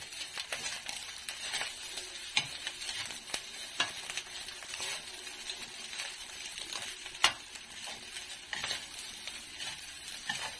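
Spatula stirring fried rice with longganisa sausage in a pan, scraping and clinking in irregular strokes over a soft background sizzle, with a few sharper metallic taps, no talking.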